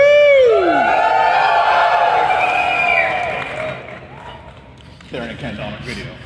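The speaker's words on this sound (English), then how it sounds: "Let me show you the crowd." A loud crowd at the TheGameCon 2015 gaming convention: a dense hall murmur with whoops and cheering near the start, easing off midway, then picking up again with voices toward the end.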